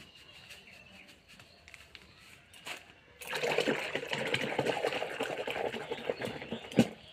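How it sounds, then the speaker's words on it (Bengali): Water splashing and sloshing as clothes are soaked with Surf detergent, faint trickling at first, then a louder steady wash of water and handling from about three seconds on, close by, with no talking. "চলুন জামা কাপড়গুলো ভিজিয়ে রেখে দিই একটুক্ষণ"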